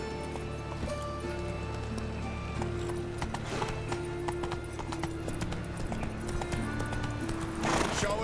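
Hooves of Roach, a horse in The Witcher 3, clip-clop steadily at a walk over a continuous game ambience and music bed, with a brief whinny-like flourish near the end.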